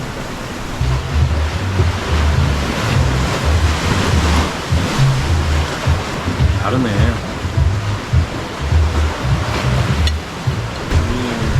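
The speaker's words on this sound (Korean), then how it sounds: "이 맑기 맑은 바다를 보면서 이 파도 소리를 들으면서" Ocean waves wash onto a shore in Bali as a steady, close roar of surf with some wind noise, while a person speaks briefly over it.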